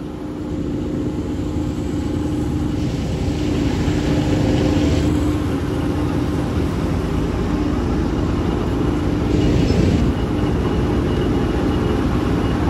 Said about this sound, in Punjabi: ਬਾਈ ਬਹੁਤ ਜਾਨ ਆ ਟਰੈਕਟਰ ਚ